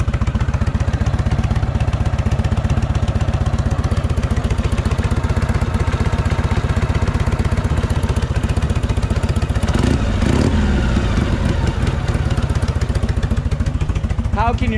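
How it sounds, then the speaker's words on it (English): A 1970s Shovelhead chopper motorcycle with an open belt idles loud and close in a steady, lumpy rhythmic chug, with brief voices around the middle. "the motor sounds fantastic"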